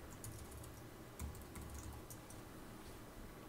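Soft, rapid keystrokes on a computer keyboard while searching in GIS software, a quiet close run of light clicks with no talk.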